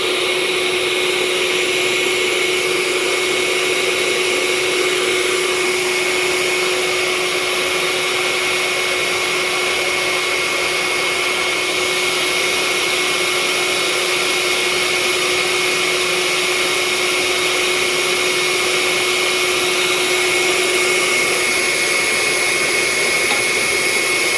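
A vacuum hose draws ash out of a Breckwell P2000i pellet stove during routine cleaning, producing a loud, steady, unbroken whine with a fixed tone from start to finish, close by.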